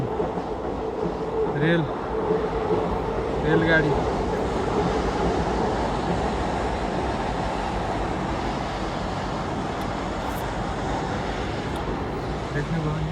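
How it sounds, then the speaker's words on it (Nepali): A train rolls past a residential area near a main gate, a steady broadband rumble with faint rhythmic clatter filling the whole stretch, while people talk faintly in the background. "ट्रेन रेलगाडी"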